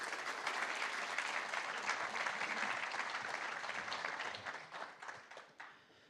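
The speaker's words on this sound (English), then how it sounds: "Please give them a huge round of applause." Applause from a conference audience at a live railway industry podcast in London: sustained, dense clapping at a moderate distance, holding steady for several seconds before thinning and tapering off.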